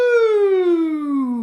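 A single voice imitates a police siren with a smooth, sustained 'woo' that glides slowly downward in pitch, loud and close, with no other sound around it.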